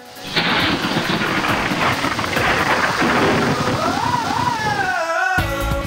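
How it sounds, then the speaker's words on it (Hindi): A thunderstorm over Karachi at night brings loud, continuous rain with deep rolling thunder throughout, nearby and dense, and the sound cuts off abruptly at the end. "अचानक इतवार की रात बादल गरजे, बिजलियां कड़की।"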